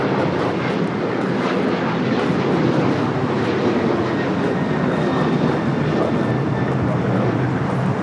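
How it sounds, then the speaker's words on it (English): A United Airlines Boeing 737-900ER roars on its takeoff run at Los Angeles International Airport, a loud, dense, steady jet rumble holding throughout without letup. "This is United Airlines 2458 taking off to Houston Intercontinental on the 737-900ER."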